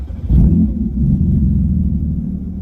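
Porsche 911 GT3 RS with PDK gearbox, aftermarket headers and exhaust valves, rumbling loud and close with a sharp swell early on before settling into a steady low drone while driving.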